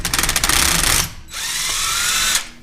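A hand ratchet clicks rapidly while removing a starter motor bolt from a water-filled Honda CB500 motorcycle engine. It comes in two close, loud bursts of dense clicking separated by a brief pause.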